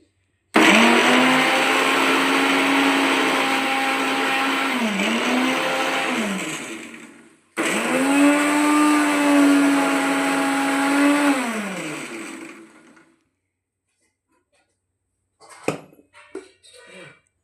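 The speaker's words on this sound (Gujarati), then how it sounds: "મિક્સર ને ધીમું ધીમું હાંકવું પડે" A kitchen mixer grinder blends chilli and mint for pani puri in two long, loud whining runs, its motor pitch dipping and rising as it labours, followed by silence and a few brief clattering sounds.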